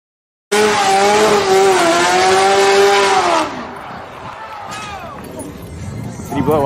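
Muscle cars revving hard with loud, wavering engine and tire squeal for about three seconds, then dropping to a quieter rumble with more squeal behind a commentator's voice.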